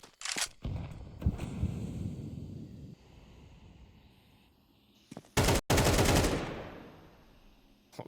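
Wall-bang gunfire in a professional Counter-Strike match on the Ancient map: a quick burst of shots near the start, a heavier volley around the middle, and a loud final burst before the action fades into quieter ambience.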